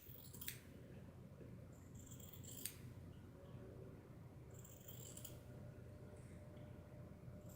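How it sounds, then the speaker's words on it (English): Scissors cutting through the stretchy selvage edge of fabric during a craft session: three or four crisp, close snipping strokes in quiet near-silence. "I'm gonna just cut this selvage."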